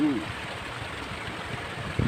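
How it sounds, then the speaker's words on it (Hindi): Water is poured into a bamboo tube packed with rice and leaves, giving a steady close splashing trickle throughout, with a brief voice at the start. "यहाँ पे आपको पानी साइड से डालना है, ना कि पत्ता का अंदर"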